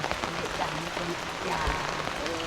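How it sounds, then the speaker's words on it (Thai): Steady heavy rain patters across a surface in a continuous hiss, with a person speaking over it now and then. "ฝนตกนะพี่น้องเนาะ"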